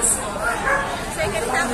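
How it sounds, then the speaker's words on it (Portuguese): Several pit bulls barking and yipping at a property with many pit bulls, short overlapping barks and whimpers close by, mixed with people talking throughout. "tem um monte de pitbull aqui, hein?"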